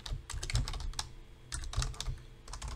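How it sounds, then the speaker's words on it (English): Keys clatter on a computer keyboard as a web address goes into a Google search, a steady run of quick close clicks over a low background hum, with no voices. "we can go back to Google search and type in URL"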